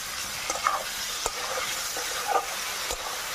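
Spices, chili, ginger-garlic paste and tomato paste fry together in a pan for a raw-banana kopta curry, making a continuous close sizzle broken by several distinct stirring scrapes and taps, with no voices.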